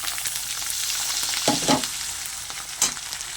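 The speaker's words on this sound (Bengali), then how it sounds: "আদা রসুন বাটা আর পেঁয়াজটা আর একটু ভালো করে ভেজে নেব" Chopped onion with ginger-garlic paste and ground spices fries in a pan for chickpea ghugni, a continuous close sizzle broken by a few spoon scrapes and clinks, with no talking.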